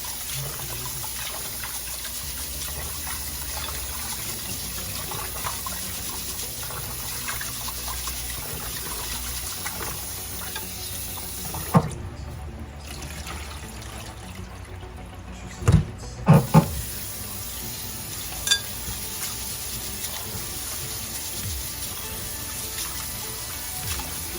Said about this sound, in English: The rice is dirty, so we gotta wash it.